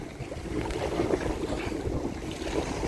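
Strong wind roars steadily over the open sea on a boat in the evening, a constant heavy rush with waves sloshing underneath, close and loud for the whole stretch.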